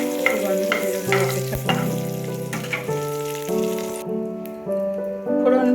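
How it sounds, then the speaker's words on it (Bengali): Dried red chili, a bay leaf and cumin seeds sizzle and crackle in hot oil as a tempering for a light rohu fish curry, with stirring and background music playing over the frying. "ফোড়নের জন্য একটা শুকনো লঙ্কা, একটা তেজপাতা আর অল্প একটু জিরে ফোড়ন দিয়ে দিচ্ছি। এবার ফোড়নটা ভেজে নেব।"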